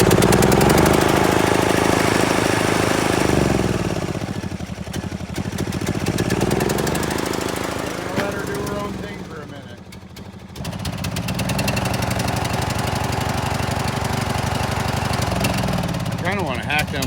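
A John Deere L100 lawn tractor engine runs loudly and roughly for most of the time, dipping and briefly faltering midway before picking back up, with a steady mechanical clatter close by.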